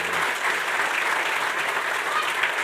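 Live audience at a hurling championship preview event gives a round of applause, continuous even clapping from a crowded room, with faint voices underneath.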